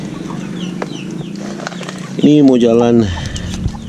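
Indio Gigante, barred rock and KOB chickens cluck close by, with a loud drawn-out call rising in the middle, while someone talks briefly over the birds.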